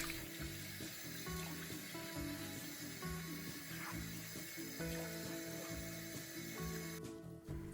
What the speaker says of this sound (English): Rinse the sink with running water.